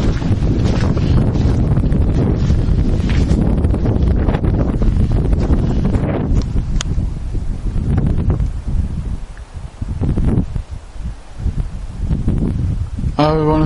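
Cold, strong wind on a cloud-covered summit buffets the microphone in loud, gusting rumbles throughout, easing slightly toward the end, with a voice faintly audible beneath.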